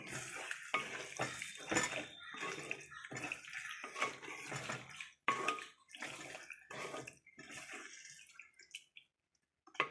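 Green paste being stirred into chicken pieces in a pot for green chicken curry, with repeated wet, squelching scrapes and clinks of a spoon against metal in an uneven rhythm, close up, tapering off near the end, no talking.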